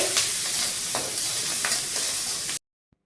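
Green chilies and onion are stirred as they fry in oil left over from frying fish, a busy close sizzle with scraping stirs that stops abruptly, followed by near silence and one faint tap.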